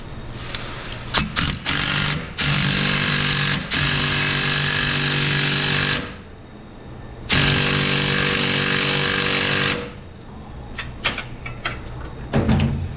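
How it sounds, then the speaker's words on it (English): A typical 3/8 impact wrench works a suspension nut on the rear end of a 2005 Ford Explorer, loud and close, firing in short hammering bursts and then two longer sustained runs with pauses and clanks between them. "I'm just using a typical 3/8 impact."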